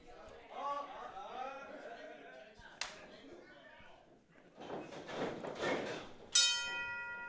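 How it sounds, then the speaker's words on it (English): A wrestling ring bell rings once to open a tag team match at an SICW All-Star Wrestling event, a short bright metallic strike near the end amid crowd noise and an announcer talking. "The bell has rung."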